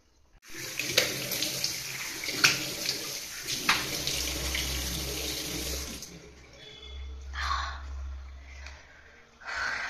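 Warm tap water runs into a sink while a face is washed, a steady close rush for several seconds, then quieter splashing and dripping with soft breaths as the water stops.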